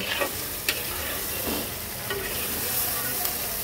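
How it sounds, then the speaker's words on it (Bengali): Tengra fish and onions frying in a pan for a dopeyaja, a steady close sizzle with occasional stirring scrapes and clinks throughout, no talking. "তো চলো এটাকে 2-1 মিনিট একটু ভাজা ভাজা করে নিই।"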